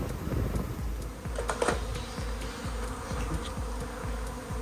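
Swarming honeybees buzz in a steady close drone during a bee removal, with faint ticking and knocking beneath it and no talk.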